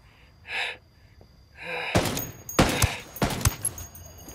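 Gunfire in the shooter Ghost Recon Wildlands, a few quiet noises first, then a close burst of sharp, punchy shots in irregular rapid succession.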